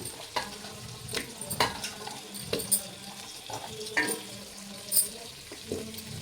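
Potato and carrot pieces fry in a pan, a continuous soft sizzle broken by repeated scraping stirs every second or so, close and moderately loud, with no one talking.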